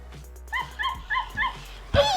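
An IMC Toys Lucy toy puppy gives a quick run of high, electronic yips and whimpering barks, close and fairly loud, with a brief voice at the end.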